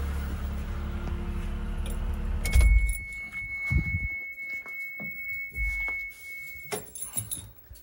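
A Toyota MR2 SW20 with a freshly installed 2GR V6 engine idles low and rumbling up close, then cuts off sharply, leaving a quiet garage with a faint lingering tone, keys jangling and a few soft knocks.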